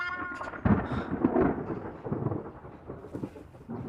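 Thunder rumbles ahead of coming rain, a deep rolling peal that swells near the start and fades out over a few seconds with a faint rustle beneath.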